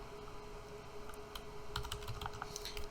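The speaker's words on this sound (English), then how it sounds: "if you hit the search or the start bar and start typing" Rapid typing on a computer keyboard, a steady run of light clicks up close, the keystrokes growing denser toward the end, with no voices over it.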